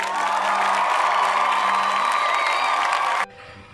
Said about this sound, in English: Everyone give yourself a virtual clap.